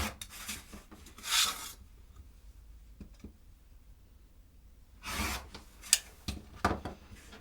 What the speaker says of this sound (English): now we're going to go ahead and cut on the diagonal both ways.